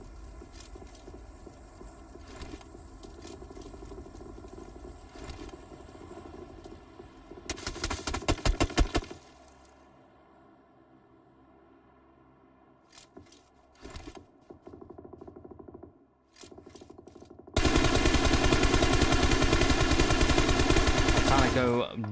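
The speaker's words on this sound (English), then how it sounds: "nice shots, long range" Long-range gunfire in PUBG Mobile during a tournament match, rapid bursts of shots up close that hammer in steady repetition, with quieter stretches between and a dense, loud volley at the end; speech is faint.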